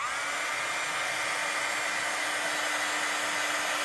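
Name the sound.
heat tool blowing hot air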